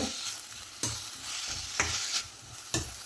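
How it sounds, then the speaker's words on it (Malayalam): Onion and tomato sauté in a pan for a drumstick and potato curry, producing a bright, steady sizzle broken by rhythmic stirring clatters roughly once a second. "എല്ലാം കൂടി ഒന്ന് സോട്ട് ചെയ്ത് കൊടുക്കാം ഒന്ന് വഴറ്റി കൊടുക്കുക"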